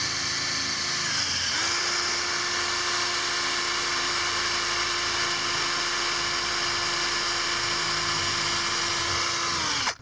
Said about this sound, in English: Drill bit.